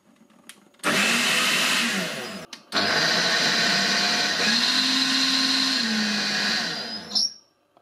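A kitchen blender runs in pulse mode, its motor bursting on loud for a couple of seconds, cutting out briefly, then roaring again for about five seconds before stopping, with no talking.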